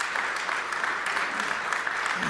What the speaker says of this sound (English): Another round of applause for Cindy for the Quilts of Valor